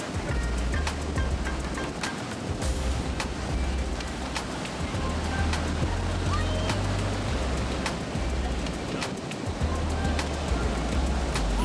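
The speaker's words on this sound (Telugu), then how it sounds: "కొన్ని అయితే చాలా పెద్ద పెద్ద వేవ్స్ వస్తున్నాయి" Steady roar of surf at La Jolla Beach, San Diego, with large waves crashing continuously, loud and close, with gusty wind noise over the microphone.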